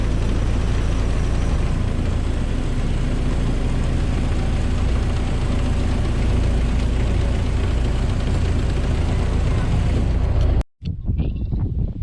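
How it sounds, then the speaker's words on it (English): A tour boat engine idles loudly and steadily in the Everglades, a deep continuous rumble that is abruptly shut off near the end, leaving faint quiet. "Captain Cliston is going to kill the engine so we can hear her sounds and maybe the cries of her babies."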